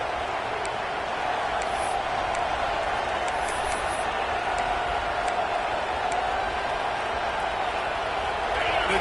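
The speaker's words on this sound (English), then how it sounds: "The Tide crowd rolling noise down onto Saban Field on 3rd down." An Alabama Crimson Tide football crowd at Saban Field roars on 3rd down, a steady, dense wall of noise that holds at full volume throughout with no break.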